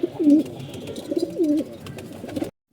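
Racing pigeons coo close by, several distinct rolling coos rising and falling in a steady rhythm over a low background murmur before the sound cuts off abruptly.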